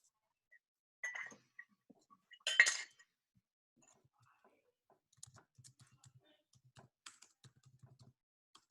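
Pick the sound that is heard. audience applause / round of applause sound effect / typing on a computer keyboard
typing on a computer keyboard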